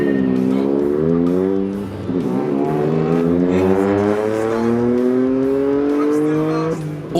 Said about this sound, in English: All 4 cars got away cleanly, with the 86 leading the pack up towards the first potential pinch point